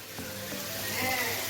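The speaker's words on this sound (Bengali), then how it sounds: "আর এই যে মশলাটা কষছে, দেখতেই পাচ্ছ মশলার কালার, তেল ছেড়ে আসছে" Spice masala frying in oil in a home kitchen pan for egg curry: a steady, soft sizzle and crackle close by, with faint stirring and no talk over it.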